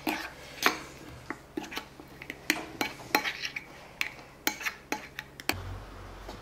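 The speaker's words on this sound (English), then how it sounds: "Just mix it in there." A utensil clinks and scrapes against a bowl while herbs are mixed into a tabbouleh couscous salad, giving a run of sharp, close taps at an uneven rhythm with no talk.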